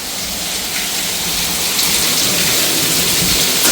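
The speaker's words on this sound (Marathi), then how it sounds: "तर अशा प्रकारे धो धो धो धो धो धो धो धो पाऊस पडत" Heavy rain pours down outside a home during Diwali, making a loud, steady, unbroken roar of drops that holds throughout.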